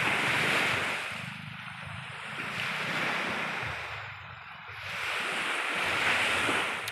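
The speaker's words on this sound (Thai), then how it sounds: "เสียงลมทะเลนะครับ" Steady sea wind and surf wash along a beach, with a full broadband roar that swells and eases in slow waves, wind buffeting the microphone and no voices.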